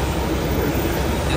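A JR 203-series KRL commuter train rumbles past close by, a loud continuous roar of wheels and carriages filling the whole moment with no talking.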